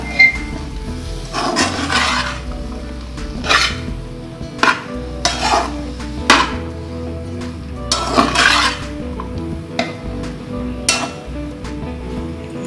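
Coriander being mixed into potato samosa filling: a spoon scrapes and stirs against a metal pot in repeated bursts of clinking and scraping, close and fairly loud, with no voices.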